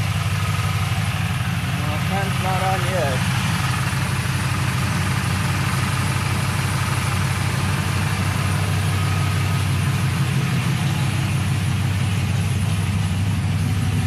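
A steady electric radiator cooling fan runs inside a Chevy Silverado-type pickup with the AC on, a constant whooshing hum over low engine idle rumble throughout, with a brief faint tonal chirp early on.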